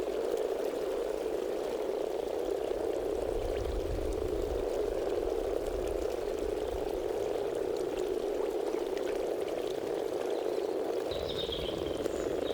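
Frogs croak in a thick continuous chorus that stays steady and moderately loud throughout, with faint watery background noise and no voices.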